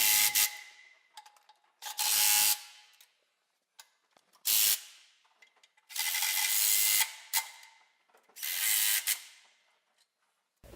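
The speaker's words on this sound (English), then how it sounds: "you begin to torque the bolts, do the sides first, then move to the middle bolts and torque them all" Intake manifold bolts on a Cummins ISX15 engine are torqued with a ratchet, giving bursts of rapid clicking separated by short pauses, close and loud with no talk.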